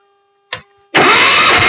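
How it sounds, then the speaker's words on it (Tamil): A restored diesel Royal Enfield Bullet motorcycle starts on its electric self-starter: a short crank burst, a brief pause, then the engine catches into a loud, close, steady running clatter that continues to the end, with no talking. "இப்போ நான் வண்டி ஸ்டார்ட் பண்ணி காட்ட பாருங்க."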